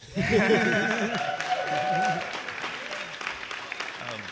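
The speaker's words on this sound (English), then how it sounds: "Yeah, you can cheer for that." An audience cheers and applauds over a deck announcement, a loud burst of mixed clapping and voices that stays steady for several seconds before thinning out.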